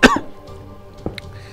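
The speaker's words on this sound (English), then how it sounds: "It's making me cough." A single sharp cough bursts out close to the mic, followed by a fainter throat-clearing sound about a second later, over quiet game background tones.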